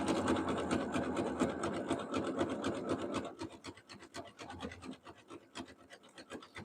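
A sewing machine stitches two sticky fabric strips together for a jelly roll rug, a fast rhythmic mechanical rattle that runs steadily, then slows into more spaced, uneven stitching.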